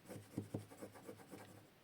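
A bone folder presses and rubs along a paper fold while assembling a handmade recipe box, giving a soft, close scraping rasp in several short strokes with no talking.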